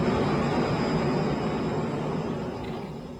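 A jet aircraft passing with a broad, steady roar and a thin high whine that slowly fades toward the end, heard alone without voices.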